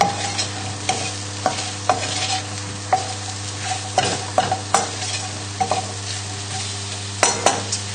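Mushrooms seasoned with salt and pepper sizzle in a pan as they are tossed, a constant frying hiss broken by sharp, regular scrapes and knocks of the utensil against the pan.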